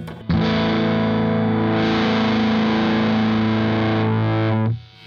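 An electric guitar played through a Laney IRF-Loudpedal amp on its lead channel holds a loud, heavily distorted sustained chord for about four seconds before it is cut off, with no talking over it.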